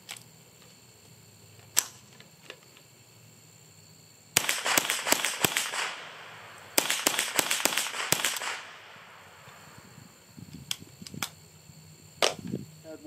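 Ruger 10/22 rifle firing shots, sharp cracks in two rapid strings of several shots each plus a few isolated reports, fairly close, with quieter handling noise between.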